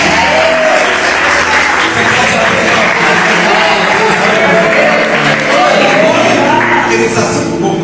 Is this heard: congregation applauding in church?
yes